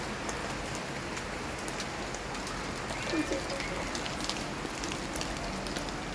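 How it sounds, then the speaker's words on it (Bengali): Rain falling outside, a steady dense patter and hiss of drops on surfaces, continuous and fairly close, with no voices. "বাইরে হচ্ছে বৃষ্টি।"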